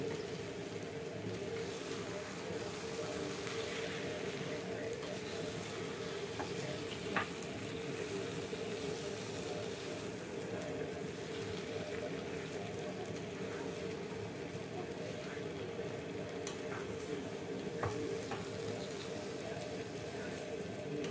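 Coconut being stirred into taro greens frying in a pan, a steady soft sizzle with occasional faint scrapes and ticks, continuous and moderately close.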